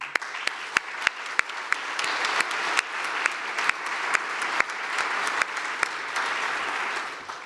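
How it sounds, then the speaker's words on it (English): A crowd applauds steadily with dense clapping, a few sharper individual claps standing out, sustained for several seconds before tapering slightly. "So also please, a big thank you and applause for Sonja Langolius und Janika Gelinik."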